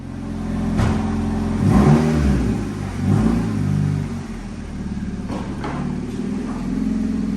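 A 1.8 Honda Civic Type S fitted with a Martelius cat-back exhaust on a V-band clamp revs up several times, a close, throaty rasp rising over a steady idle rumble, with no talking.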